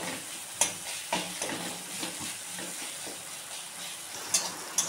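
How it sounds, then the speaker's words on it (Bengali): Garlic and chili frying in a pan with eggplant, giving a steady close sizzle with stirring scrapes and a few sharp utensil clicks throughout, no voices. "এটাকে ভাজা ভাজা করতে থাকবো।"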